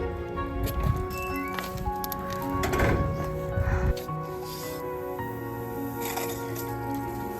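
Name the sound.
crunching of a frozen hose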